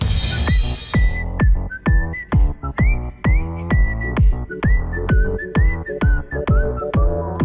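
Catchy melodic whistling carries the tune of a video game fan song over a steady beat and a bright piano, with repeated short phrases and no talking.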